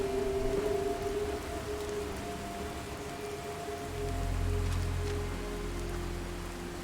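Rain in the Fallout 4 video game, a faint, steady hiss of falling drops with a low rumble swelling briefly partway through.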